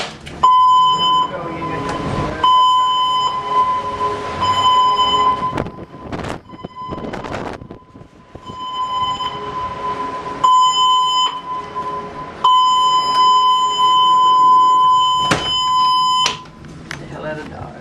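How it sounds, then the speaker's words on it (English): A cruise ship's alarm sounds for a passenger muster drill on a Mediterranean cruise: a steady electronic tone pulses on and off in long bursts, with people talking nearby over it. "The ship's alarms are about to be sounded for passenger exercise purposes only."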